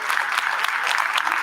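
A crowd at a City Council inauguration ceremony claps for the district attorney, a short burst of dense, brisk applause heard up close with no speech.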